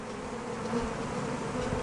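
A swarm of honeybees hums in a continuous dense buzz, close and steady, with no voices, as the bees cluster around a hive.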